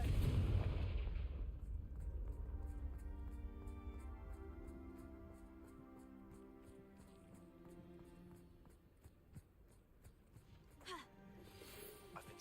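A heavy blast from the Confringo spell in Hogwarts Legacy opens loudly, then a rumbling decay, with musical tones and a smaller burst near the end.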